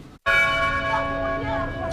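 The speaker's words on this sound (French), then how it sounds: "voici la cloche de la cathédrale Cœur Immaculé de Marie de Banka sonne pour annoncer la messe" The bell of the Cœur Immaculé de Marie cathedral in Bangui rings out to announce mass, a loud sustained metallic tone with rich ringing overtones that swell and linger, struck right after a brief silence.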